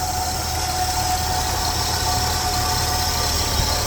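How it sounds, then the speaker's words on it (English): A 1977 Ford F150 with the 4.9L 300 inline-six idles steadily while its alternator gives off a thin, constant whine above the engine's low rumble, with no other sounds. "Only thing you can hear making noise is the alternator."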